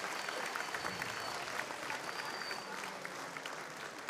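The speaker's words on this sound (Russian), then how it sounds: "Аплодисменты бойцам." Sustained applause from an arena crowd after an ACB 56 MMA bout between Vladislav Stepanov and Adam Aliev, dense and steady throughout with faint background voices mixed in.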